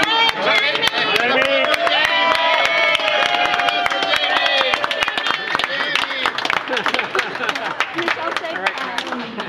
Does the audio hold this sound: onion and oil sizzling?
no